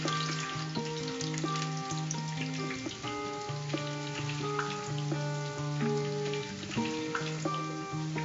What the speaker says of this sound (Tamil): இது நல்ல கிறிஸ்பியா நம்ம வந்து பொரிக்கணும்.